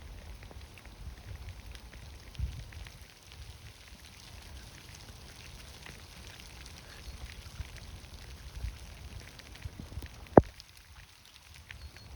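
Steady soft patter of rain falling in Rouge Valley Park near the Rouge River, continuous and fairly faint, with a single sharp tick near the end.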